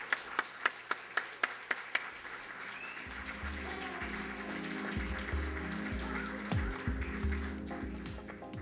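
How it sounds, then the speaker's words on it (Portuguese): Several loud, separate claps open, then steady applause follows at an anniversary ceremony in an auditorium. The applause rises over a low hum and runs under faint background sounds. "eu peço uma salva de palmas a todos."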